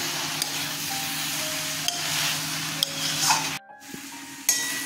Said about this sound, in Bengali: আর এদিকে বাঁধাকপিটাও হচ্ছে, বাঁধাকপিটা এখন টানাচ্ছি।